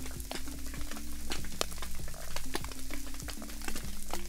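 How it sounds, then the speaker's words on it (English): Dense underwater crackling and clicking from aquatic species at a pier on New York's East River in the morning, a steady snapping fizz with a low hum beneath it and no voices. "This is the sound of underwater species at the pier of New York East River in the morning."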